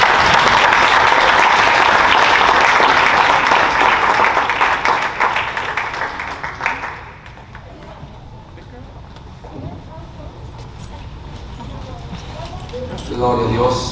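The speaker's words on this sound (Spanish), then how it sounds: "Denle un aplauso al Señor." A church congregation applauds loudly and steadily for about six seconds. The clapping then fades into quieter murmuring and voices in the room.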